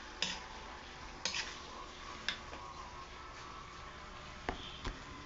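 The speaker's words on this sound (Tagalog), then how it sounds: "Gisahin natin para siya mag-brown" Food sautéing in a pan until browned, with a steady low sizzle and a few sharp utensil clicks and scrapes against the pan at irregular intervals, close and fairly quiet, no talking.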